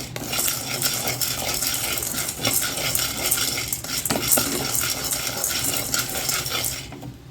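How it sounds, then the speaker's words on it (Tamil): Roasted gram (pottukadalai) being dry roasted in an oil pan without oil, a continuous dense rattling and clattering of small hard grains stirred against metal, loud and busy throughout. "ஒரு எண்ணெய் சட்டியில் லைட்டாக வறுத்துக்கலாம்"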